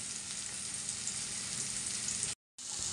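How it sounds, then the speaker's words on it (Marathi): Onion, garlic and tomato sizzle and fry in a pan with a dense, steady crackling hiss, close and continuous apart from one short silent gap. "कांदा आणि टमॅटो इथं परतायचं काम चालू आहे."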